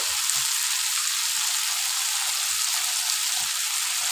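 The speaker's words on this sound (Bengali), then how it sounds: "এটা দিয়ে দিলাম এবার আলুটা ভাজতে থাকছি" Potatoes fry steadily in a pan for a Bengali prawn and banana-flower dish, giving a loud, even sizzle with scattered crackles and no voices.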